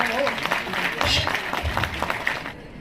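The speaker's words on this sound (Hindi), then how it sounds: "आपकी तालियों की गूंज जारी रहे" Audience members at an Urdu literary gathering in Aurangabad clap as a guest is called to the stage. The uneven applause mixes with talk and fades out abruptly near the end.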